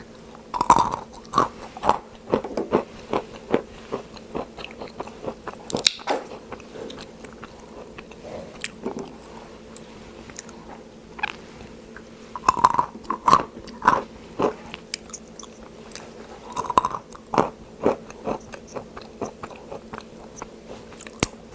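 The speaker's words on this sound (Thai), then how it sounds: "ใครที่ชอบกินถั่วกรอบๆนะคะ ลองกินเลยแมคคาเดเมียอร่อยมาก" Butter-roasted macadamia nuts being chewed close up, crisp crunchy bites and steady mastication in irregular bursts, with no talk.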